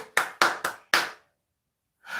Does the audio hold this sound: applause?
yes